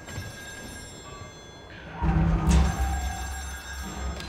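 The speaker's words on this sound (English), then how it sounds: "I hear a phone ringing." An old-style telephone rings on an offshore oil rig in the video game Still Wakes the Deep, a moderately loud bell tone cutting through a low mechanical rumble and ambient drone, with no talking.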